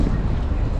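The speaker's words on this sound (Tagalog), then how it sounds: "Oh, sobrang hangin oh." Wind buffets the microphone in a steady low rumble at Namsan Seoul Tower, loud and continuous throughout the short moment.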